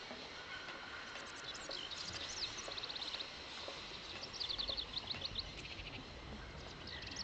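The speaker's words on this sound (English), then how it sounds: "Them birds are trying to outspeak me again." Birds chirp in the Syberia video game, light repeated twittering calls scattered over a steady ambient bed, moderately faint and continuous with short bursts of busier chirping.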